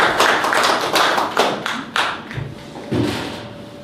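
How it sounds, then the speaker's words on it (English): A conference audience at a tech event gives a short, sparse round of applause, a handful of distinct near claps and thumps rather than a full ovation. "So come on and give them a round of applause."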